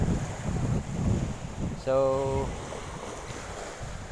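Strong wind at sea off Atimonan, Quezon, during fishing from a boat, roaring steadily into the microphone as a low rushing noise, with a brief tonal whine partway through and a voice speaking briefly.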